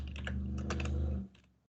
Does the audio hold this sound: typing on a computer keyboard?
yes